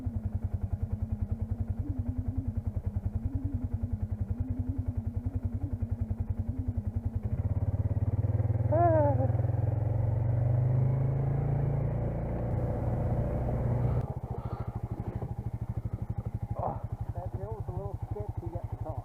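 A quad bike's motor idles and revs steadily as the machine rolls off, with chugging engine pulses throughout and people talking over it in the middle and later parts.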